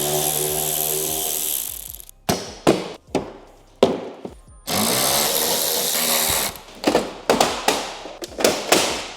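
Power tool driving out T25 Torx screws from a VW Scirocco bumper and arch liners, heard as a long whirring run followed by a string of short, sharp bursts and ratcheting clicks, close and loud.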